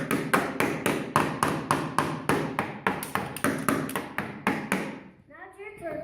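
A hammer taps steadily during repair work on a Gator utility vehicle, about fourteen evenly spaced metallic strikes that stop abruptly, then a few faint voices follow.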